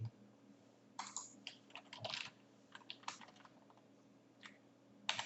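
Clicks from a computer mouse and keyboard while working in a spreadsheet come in quiet, irregular bursts of sharp taps close to the microphone, over a low steady background hum.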